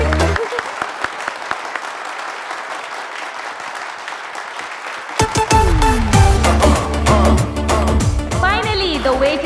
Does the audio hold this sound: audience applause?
yes